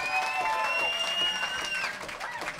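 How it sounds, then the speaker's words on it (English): A crowd at a 2v2 beatbox battle final cheers and applauds steadily, with dense clapping and shouting that holds throughout and fades slightly near the end. "Make some noise for K-Pom from the United States"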